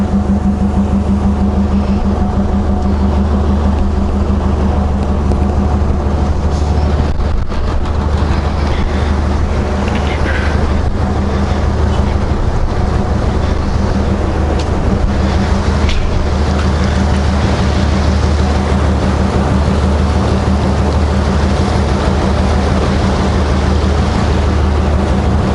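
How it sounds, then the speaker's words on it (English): Ferry engines run at a deep, steady rumble while the vessel pushes into the dock on a free crossing, loud and continuous with wind and water wash over the low drone. "See, he's got his engines running, pushing into the dock."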